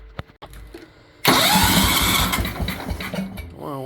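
Kohler K241 10 hp single-cylinder engine, shown with Teflon tape on it, cranks after a few quiet clicks, then bursts into a loud, steady, close running roar that holds for several seconds with no talk.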